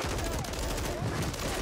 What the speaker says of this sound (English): Stop shooting me in my back, loser.